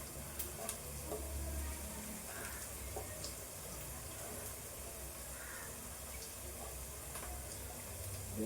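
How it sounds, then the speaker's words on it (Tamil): Egg and onion frying in a pan, giving a faint, steady sizzle with small crackles throughout and no talking. "இது கொஞ்சம் இப்படியே ஃப்ரை ஆகட்டும்."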